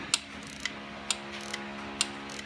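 Ratchet wrench tightening a bolt on a Honda Sonic motorcycle's cam chain tensioner: a few sharp metallic clicks spaced irregularly over a faint mechanical hum, close and fairly quiet.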